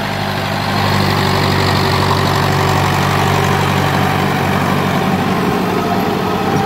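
A 1986 Massey Ferguson 265 diesel tractor, English-built, runs at a steady idle, its loud, close, low throbbing drone continuous throughout with no talk.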